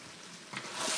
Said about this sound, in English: And I'm going to stir it and make sure the fish get really soaked in there